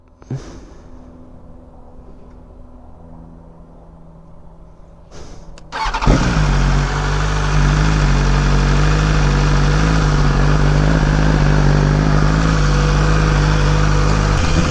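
A BMW S1000RR sport motorcycle engine starts up after a few quiet seconds and settles into a loud, steady, close idle that rumbles on without a break.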